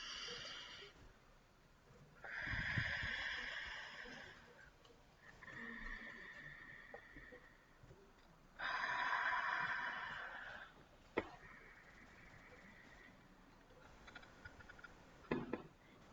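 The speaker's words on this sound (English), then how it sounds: "So take 3 deep breaths with me right now." Slow, deliberate deep breaths drawn in and let out several times at a closing meditation, soft and airy against a quiet background with no talking.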